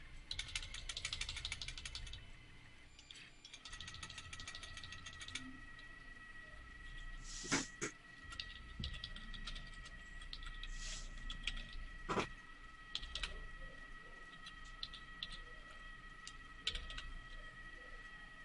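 Computer keyboard typing runs throughout, a steady patter of soft keystrokes with a few sharper, louder clicks standing out, no voices present.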